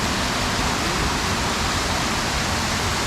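Sipyen Waterfall on Kosrae pours in a loud, steady, broadband rush of falling water, continuous and close with no break, and no voices over it.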